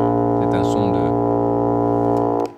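A very low tuba note played back in orchestration software sounds as one sustained, deep brassy drone that holds steady for about two and a half seconds and then cuts off abruptly.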